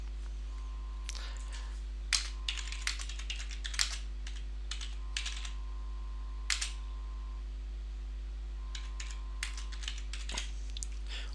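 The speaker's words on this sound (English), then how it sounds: "type in a description." Keystrokes on a computer keyboard come in irregular bursts of close, crisp taps separated by pauses, over a steady low electrical hum.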